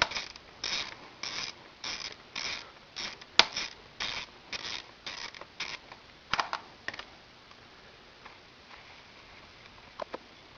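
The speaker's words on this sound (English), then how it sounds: "Two Phillips head screws hold the bracket on. Once the screws have started, they come rather easily." Phillips head screws come out of a carburettor bracket on a V65 Magna, a quick run of rhythmic close ratcheting clicks from the screwdriver, then a few scattered faint ticks and a metallic clink.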